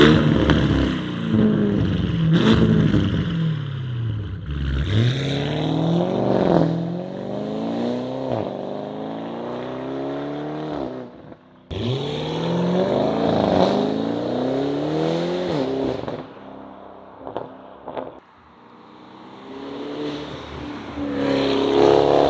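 An Audi RS6 revving hard, the engine climbing and falling through repeated sweeps with sharp exhaust pops and crackles between them, loud and close, continuous for over twenty seconds.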